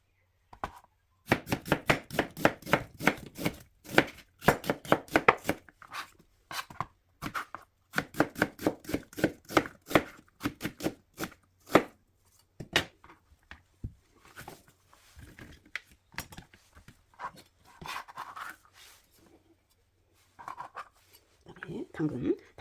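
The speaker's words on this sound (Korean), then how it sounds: "야채를 썰어 놓겠습니다. 우선 양파" A knife chopping onion and other vegetables on a cutting board while braised pollock is being prepared, heard as long runs of quick, even, close taps with short pauses, and a voice speaking over parts of it.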